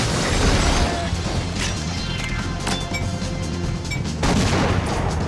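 Constant gunfire and grenade blasts in James Bond 007: Agent Under Fire, a loud, dense barrage of shots and booms running throughout with no letup.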